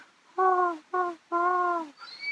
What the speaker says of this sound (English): and that is actually a barred owl